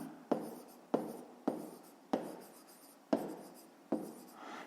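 A pen scratches across paper during a school math exercise, with six or seven short, faint strokes in an uneven rhythm, close by and quiet with no talk.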